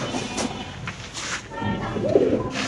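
Pigeons at a pigeon sale give soft, throaty coos close by, repeating against a busy background with faint voices and shuffling.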